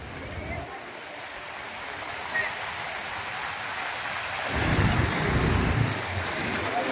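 Floodwater from heavy monsoon rain rushes through Jawahar Chowk in Rajapur, Konkan, during Arjuna river flooding, a broad steady roar of water and downpour that swells louder toward the end, with someone talking over it.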